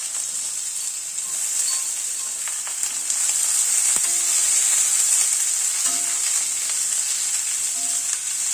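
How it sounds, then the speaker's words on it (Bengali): Eggplant, radish and potato frying in a pan for a Bengali tangra fish curry, a steady loud sizzle running throughout with occasional soft clicks of stirring, no voices. "বেগুন, মূলো, আলু সবগুলোকে একটু আগে ভেজে নেব।"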